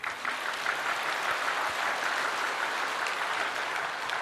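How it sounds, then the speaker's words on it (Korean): Steady applause from a church congregation during a Sunday sermon, a dense even wash of clapping that holds at the same level for its whole length, with no talking on top. "이 모르는 분들에게 우리 한번 감사 박수 한번 합니다."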